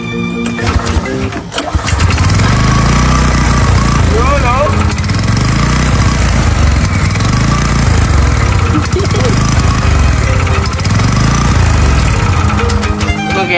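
A small emergency generator engine catches after a few seconds and runs loud and close with a rough, uneven, pulsing misfire. Excited voices are heard at the start.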